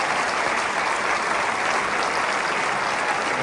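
Film premiere audience claps for the movie's participants at the Alex Theater, a dense, even wash of applause from a large crowd, loud and continuous throughout.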